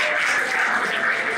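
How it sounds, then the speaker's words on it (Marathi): Brief burst of applause from a student audience at a Marathi budget-2025 talk, a dense wash of clapping hands, close and fairly loud, lasting about a second and a half. "जोरदार टाळ्या."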